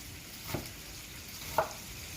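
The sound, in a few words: bacon frying in a pan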